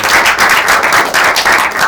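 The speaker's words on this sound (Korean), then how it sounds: "두 분께 박수 한번 부탁드리겠습니다." Steady applause from an audience at a documentary film premiere showcase, many hands clapping in continuous waves for a couple of seconds.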